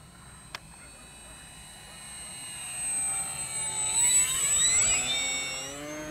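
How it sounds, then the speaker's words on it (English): XFly Tasman RC STOL bush plane, 1500 mm wingspan on 4S power, making a low flyby: an electric motor whine rises as the model approaches and passes close, pitch sliding, with people talking nearby. "Now do a low flyby."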